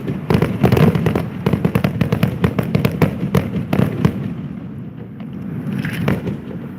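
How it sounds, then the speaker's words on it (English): A fireworks finale crackles and booms in dense, rapid bursts, loud and continuous, thinning slightly toward the end. "Every time the end comes, it's like, man, it's just so much fireworks."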